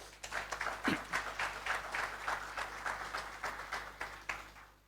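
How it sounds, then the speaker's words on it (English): Applause from an audience at the CXC Regional Top Awards Ceremony in St Lucia, a fairly quiet, somewhat distant patter of clapping over several seconds, uneven and rising and falling beneath a low steady hum. "That deserves recognition and a round of applause."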